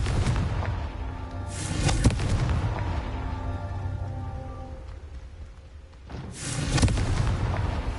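A Confringo fire spell explodes in Hogwarts Legacy during a Merlin trial, with booming blasts near the start, around two seconds and again late in the clip, each trailing into a rumbling crackle over steady game ambience.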